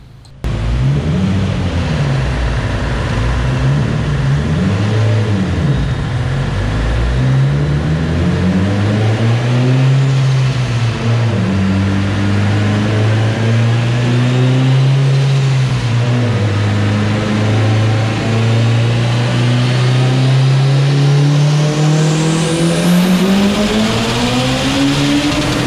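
Mitsubishi Evo X with high-compression aluminum rods on a dyno, engine loud and close as it revs steadily up through a long sustained pull, then winds higher near the end.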